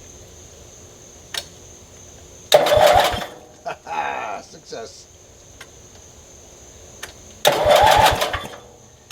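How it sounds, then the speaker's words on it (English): A starter on a vintage Montgomery Wards garden tractor cranks the engine in two loud bursts of a few seconds each, without firing because there is no fuel, with a short spoken word between the bursts. "let's see if the new wiring and starter and everything is going to turn the engine over"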